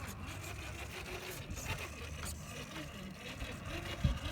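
An Axial SCX10 II RC crawler styled as a Jeep Wrangler Rubicon, on Pro-Line Hyrax tires, whirs with a faint electric motor buzz as it climbs a small wooden bridge, with light wind noise and a soft thump near the end.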